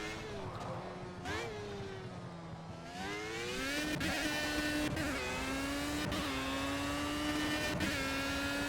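An LMP1 prototype race car in Project CARS revs and shifts through the gears, its engine whining up in repeated rising sweeps with brief dips between shifts, loud and close throughout.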